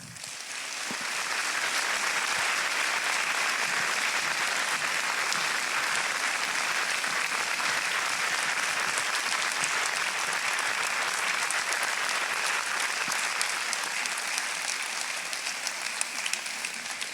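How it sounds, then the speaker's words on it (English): Steady, dense applause from an audience at a Democratic town supervisor candidate forum in Rhinebeck, rising quickly and holding at an even level for the full length, with no talk over it. "Visitors, please join me in issuing a round of applause for Amanda Miller and Debbie Hecht."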